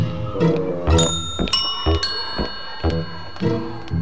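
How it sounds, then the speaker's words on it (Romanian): A small bell dings repeatedly, bright and close, over rhythmic music with steady beats. "Aud un clopoțel!"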